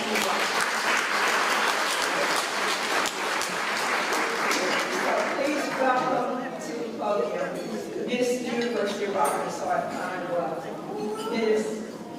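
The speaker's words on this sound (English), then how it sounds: "give her a great big applause" Reception audience giving sustained, dense applause for Miss University of Arkansas at Pine Bluff, loud and continuous at first, then thinning into scattered claps with murmuring voices underneath.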